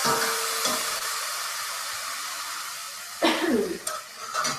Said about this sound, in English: I'm going to add some of the stock